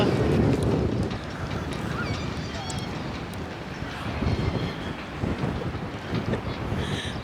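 Heavy wind buffeting the microphone with rumbling, gusty noise, while faint voices talk underneath.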